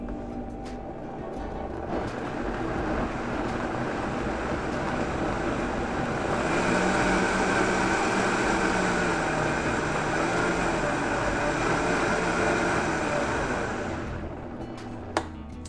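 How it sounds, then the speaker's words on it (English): A countertop blender whirring through hot tomato soup, a steady motor drone that rises in pitch and intensity partway through, then cuts off near the end, with no talking. "When you're blending hot liquids, don't ever go above the halfway mark of the blender"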